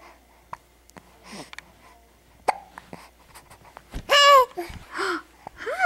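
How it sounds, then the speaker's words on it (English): A little girl hiccups several times, short sharp catches spread irregularly, mixed with small breathy vocal sounds and babbling, close and otherwise quiet. "My girl had the hiccups."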